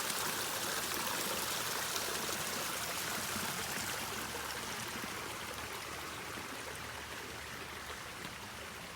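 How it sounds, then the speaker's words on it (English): Water from a mountain garden waterfall pours steadily into a pond, a continuous broadband rushing that holds constant throughout with no speech over it. "Goes up this waterfall there to the next pond and the next falls"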